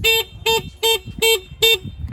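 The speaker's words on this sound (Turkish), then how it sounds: "kornamız" The horn of an RKS Siesta 50cc scooter sounds five short, evenly spaced toots, each a bright, close, steady beep with a clean gap between blasts.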